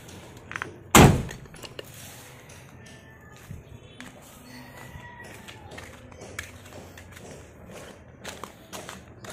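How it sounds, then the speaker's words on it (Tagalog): The door of a Mitsubishi Adventure closes with a single loud, close thud, followed by faint shuffling and small clicks as the area settles. "Try natin i-close yung pinto."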